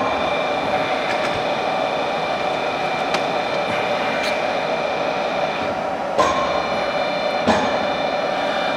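A SIP Swiss vertical jig boring mill runs steadily in a workshop, a continuous even machine whine with high tonal hum, broken by a couple of brief clanks or ticks late on.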